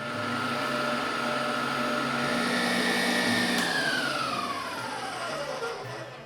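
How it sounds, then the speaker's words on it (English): A bowl of Jello mixture for a pink Bavarian cream is beaten until foamy, giving a steady whirring motor drone whose pitch sags toward the end, with no talking. "Now let's beat this until foamy."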